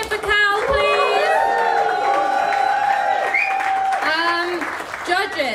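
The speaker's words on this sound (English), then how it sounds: "Big cheer for Cal, please." Live poetry slam audience cheering and whooping with applause for a performer, loud and sustained with voices rising over the clapping, briefly dipping before another burst.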